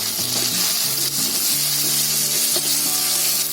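Chopped tomato hits onions already fried red and soft for chicken Patiyala, setting off a loud, steady sizzle that runs through the clip with a soft melody playing underneath.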